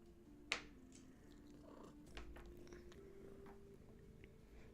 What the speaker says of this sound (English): And that's a purring kitten.